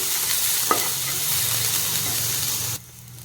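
Sliced onions with salt fry in a pan for an Odia crab curry, giving a steady close sizzle with a brief stirring scrape early on, before the hiss drops away abruptly near the end.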